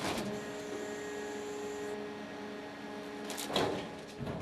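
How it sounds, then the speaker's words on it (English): A Sierra T700 shear baler logger compresses an automobile, giving a steady mechanical hum with tonal whine and hydraulic rushing, rising to a louder surge near the end. "Watch how the short stroke rams quickly size and log this automobile, compressing the load in short order."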